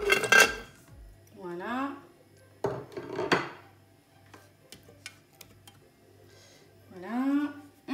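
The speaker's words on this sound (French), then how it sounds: "les tomates coupées en deux que je vais mettre dans le Thermomix" Halved tomatoes drop into a Thermomix bowl with a few dull thuds and clunks in a home kitchen, between stretches of French talk.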